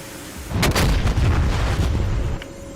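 A missile explosion in a combat video game hits as a sudden heavy boom, followed by a rumbling roar that fades over about two seconds.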